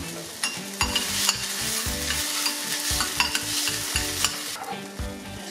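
Garlic sizzling as it fries in a pot for a Polynesian-style corned beef sushi dish, with steady crackling and repeated stirring scrapes and clinks close up.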